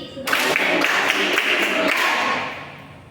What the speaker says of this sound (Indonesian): Oke, jadi sebelum memulainya kita tepuk konsentrasi dulu. Tepuk konsentrasi.